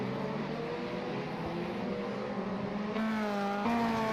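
Race cars in NASA RallyCross on iRacing, a sim racing game, with engines roaring steadily and revving higher near the end, close and loud throughout.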